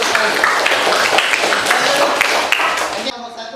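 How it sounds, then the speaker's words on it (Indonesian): A classroom of students claps in applause, a steady busy patter of many hands that cuts off near the end and leaves a quieter tail. "Ini tepuk tangan dulu, pertanyaannya bagus sekali."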